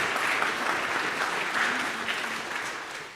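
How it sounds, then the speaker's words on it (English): A concert audience at a chorale performance claps for the accompanist, dense and continuous applause that keeps an even level before easing slightly at the end. "And of course, a round of applause for our accompanist, Cheryl Platko."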